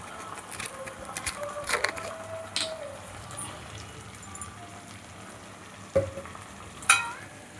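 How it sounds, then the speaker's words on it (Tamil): Soy sauce poured into a pan of frying meal maker manchurian, a soft steady sizzle with a few sharp clinks and scrapes of a utensil against the pan. "கொஞ்சமாக சோயா சாஸ் ஊற்றிப்போம்."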